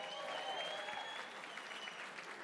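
Applause at the 50th annual Neil Kelly Memorial Auction, a steady wash of clapping from the room that stays even and moderately loud through the whole moment, with a faint tone ringing beneath it.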